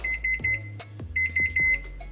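A kitchen timer alarm rings in two bursts of rapid, evenly spaced beeps, loud and close, with kitchen clatter between them.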